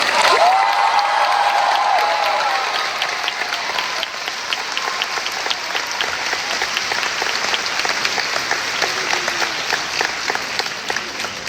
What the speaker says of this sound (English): hoot and holler, shout and scream, cheer and clap